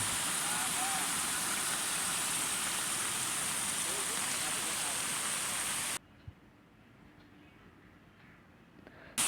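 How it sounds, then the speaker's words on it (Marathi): Waterfall at Bhagirathi falls, water plunging from a height beside an iron safety railing, a loud steady broadband roar that fills the first six seconds, then cuts to a much quieter ambience. "धबधब्याच्या वर उभं राहून पडणारा पाण्याचा प्रवाह पाहणं म्हणजे कमालच"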